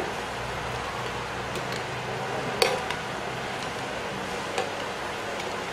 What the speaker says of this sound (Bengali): পিঠাগুলোকে আমি আবারও এভাবে নেড়ে চেড়ে দিচ্ছি